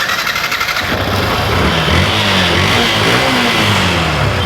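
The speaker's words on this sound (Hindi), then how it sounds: "अब करते हैं गाड़ी स्टार्ट।" A Yamaha FZ FI motorcycle, just repaired after an engine control unit fault, starts up and its engine revs in rising and falling sweeps, loud and close, with a steady mechanical clatter beneath.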